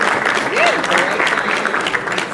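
Audience at an installation of officers and awards ceremony clapping steadily as names are called, a sustained patter of many hands with a voice speaking faintly underneath.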